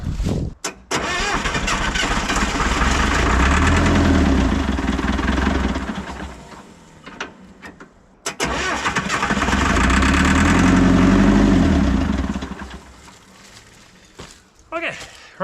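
A long-idle, previously seized International 125E track loader engine cranks and fires, running roughly in two loud bursts that each die down, with brief rattles between and a voice speaking during the clip.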